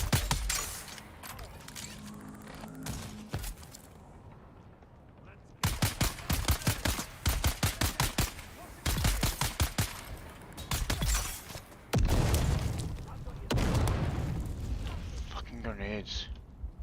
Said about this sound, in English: Fucking grenades.